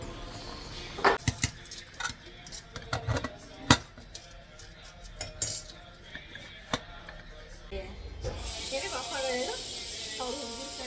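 A pressure cooker full of ghee rice vents its steam in a sudden loud, sustained hiss near the end, after a stretch of sharp metallic clinks and kitchen clatter with a voice talking in the background.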